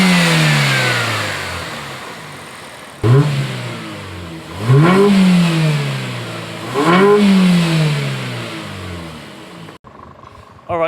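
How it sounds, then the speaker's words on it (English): A 1.5-litre MG3 fitted with a performance air intake revs repeatedly, each blip rising and falling in pitch, loud and close, with a steady engine drone between bursts and a short drop near the end. "do some revs, see how it sounds."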